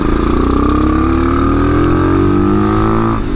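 A TaoTao 250 Chinese dual sport motorcycle engine runs close and loud, its pitch rising steadily as it accelerates through a gear and then easing off right at the end.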